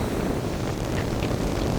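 Strong seaside wind at Teignmouth buffeting the microphone, a steady, loud rumbling roar with no breaks or voices.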